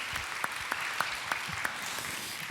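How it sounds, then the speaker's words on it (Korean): Sparse applause from a church congregation honoring a military mission team at a worship service, quiet and thin with a few distinct claps standing out over a soft background patter. "우리 군선교팀에 우리 한번 격려의 박수, 축하의 박수 한번 하면 어떨까요?"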